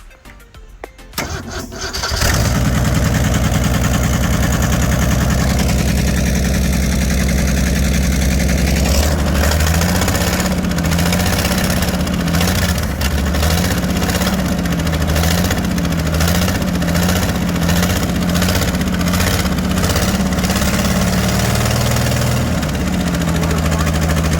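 A primed 1965 Ford Mustang engine cranks briefly, fires and settles into a loud, steady, slightly uneven idle close by, with a few rhythmic pulses in the running.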